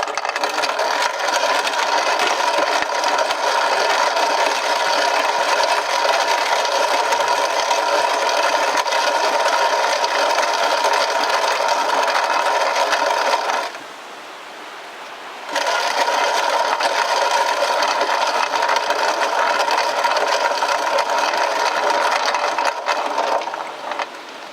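A vintage Stover mill grinds grain into flour with a loud, steady mechanical whirring drone that cuts out for about two seconds midway and then resumes. No one speaks.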